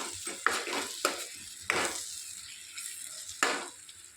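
A spoon stirs egg tomato curry in a pan, just after coriander goes in, scraping in several separate strokes over a soft steady sizzle, close and clear.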